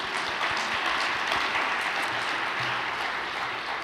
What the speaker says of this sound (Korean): 격려와 응원의 박수 한 번 더 부탁드립니다